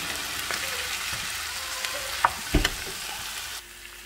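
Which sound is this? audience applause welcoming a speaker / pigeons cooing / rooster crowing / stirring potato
stirring potato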